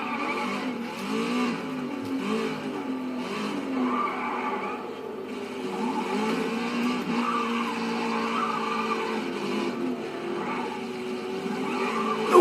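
Tires squeal and skid through a demolition derby in the Racedriver GRID video game, with engines revving beneath long wavering screeches and a sharper knock at the very end, all loud and close.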